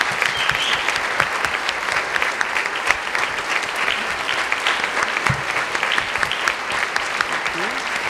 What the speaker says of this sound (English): let's give them a quick round of applause so we can recognize their efforts